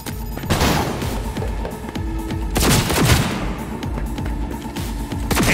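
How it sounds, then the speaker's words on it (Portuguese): Rapid gunfire from a handgun in the video game Cyberpunk 2077, loud repeated shots and booms over dense game action and effects, with heavier blasts near the middle and later. "O doidão tá atirando em mim com a minha arma. O barulho é inconfundível."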